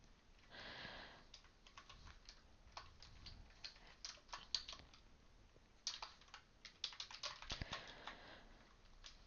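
Clicks of typing on a computer keyboard while entering text in a VI editor session, irregular bursts of faint, close keystrokes with short pauses, no voices.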